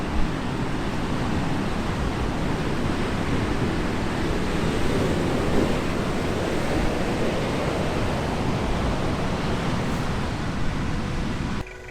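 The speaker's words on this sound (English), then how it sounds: "Check out the surf." Big ocean surf breaking near a shipwreck on the coast, a dense continuous roar of crashing waves, loud and steady with no voices.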